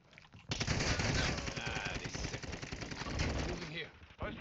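Automatic gunfire in the shooter game Call of Duty Modern Warfare 2, a loud sustained burst of rapid shots after a brief quiet start, with dense crackling reports continuing almost to the end.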